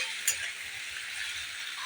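Prawns fried in a pan for a ridge gourd recipe give off a steady high hiss of sizzling oil with a faint stirring knock near the start, close and even throughout.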